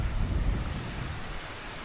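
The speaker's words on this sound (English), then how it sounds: "But yeah, it's really windy." Gusty wind buffets the microphone over the steady wash of surf at a breezy Philippine beach where a crystal kayak is out on choppy water; the roar stays loud and constant throughout.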